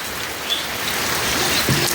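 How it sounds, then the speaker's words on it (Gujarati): Rain beginning to fall outdoors makes a steady, even hiss of drops spread across the clip, with no voices and only faint background texture. "વરસાદ ચાલુ થઈ ગયો"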